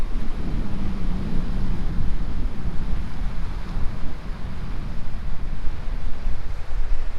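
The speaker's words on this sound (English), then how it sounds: "The wind is really strong, but water is calm." Steady, strong wind roars across the microphone with a low rumble over a faint wash of calm sea water on a Hawaii coast, continuous for the whole stretch.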